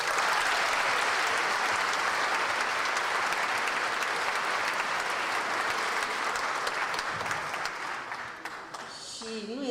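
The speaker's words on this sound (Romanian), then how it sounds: "să-i aplaudăm cu toții pe absolvenții" Sustained, dense applause from a large audience at a university graduation ceremony in Arad, steady and loud throughout before thinning slightly near the end.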